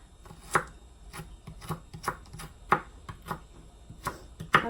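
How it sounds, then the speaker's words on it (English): Celery diced small with a kitchen knife, the blade striking the cutting board in a steady run of crisp, close chops with short pauses between strokes. "And I dice these really small because I don't want like that big crunch in my tuna."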